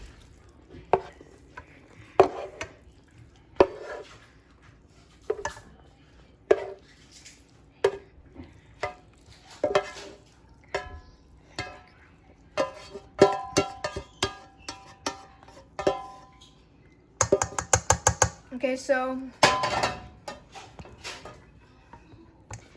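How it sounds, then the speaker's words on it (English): Cooked taco meat for nachos drained into a strainer and handled in a pan: irregular scraping, clinking and stirring knocks, with a denser clattering, sizzling stretch near the end. "now we're just draining the taco meat into the drainer so it can get all of the grease and stuff out of it"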